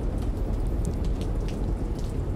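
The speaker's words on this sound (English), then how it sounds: "I guess maybe because of the storm." Heavy storm rain pours steadily in the video game Manhunt 2, a dense close hiss of drops with a low rumbling undertone of thunder, no voices.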